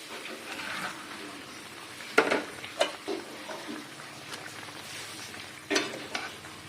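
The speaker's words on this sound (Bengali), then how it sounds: "এখানে আমি মাছগুলো দিয়ে দেবো।" Pomfret fish pieces slipped into a pan of boiling liquid give a few sharp sizzling bursts over a steady bubbling simmer, close and moderately loud.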